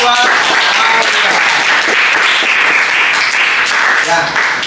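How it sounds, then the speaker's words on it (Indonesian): Audience applause fills a classroom presentation session, steady dense clapping from a crowd that runs loud throughout and fades slightly at the end, with some voices mixed in. "Tepuk tangan buat Aulia."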